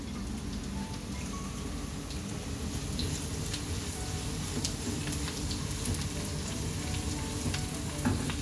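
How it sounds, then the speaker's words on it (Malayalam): Sliced green chilies sauté in hot oil in a pan for a lemon and dates pickle, giving a steady, dense sizzle with light crackle. It continues evenly throughout, close up and with no talking. "ഇത് നമുക്കൊന്ന് വഴറ്റി കൊടുക്കാം. 3 പച്ചമുളക് വട്ടത്തിൽ കട്ട് ചെയ്തത്,"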